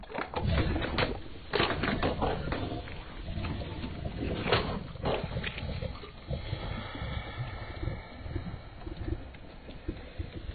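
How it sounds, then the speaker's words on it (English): A hand-cranked spoon dough churner mixing dough, a homemade wooden contraption, gives a steady, busy run of clattering, knocking mechanical clicks that stays loud and close throughout with no talking. "the groundbreaking, totally original Muller and Wong spoon cranking dough churner"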